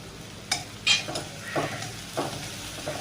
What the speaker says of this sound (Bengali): রসুনও দিয়ে দিলাম, ভেজে নিচ্ছি